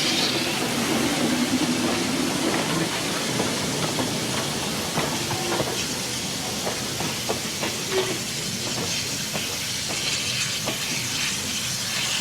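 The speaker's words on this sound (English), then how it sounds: "Our locomotive will again uncouple from its train and turn around on an arrangement of track called" A steam locomotive on the Eureka Springs Railroad runs with a constant rushing hiss and low rumble, with scattered clanks and rail clicks over a steady, fairly loud background.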